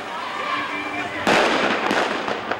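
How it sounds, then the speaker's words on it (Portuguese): Fireworks set off from a highway as a protest near a police operation crackle and burst loudly in a quick cluster of bangs after a stretch of faint background noise. "Da BR, soltaram fogos de artifício como forma de protesto."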